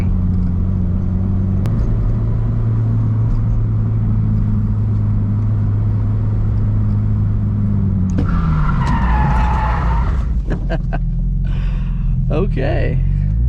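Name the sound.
Subaru BRZ handbrake turn, tires skidding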